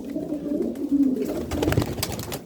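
Pigeons in a loft coo in low, rolling murmurs, one bird close and throaty at first, then more cooing and shuffling overlaps, moderately loud and without talk.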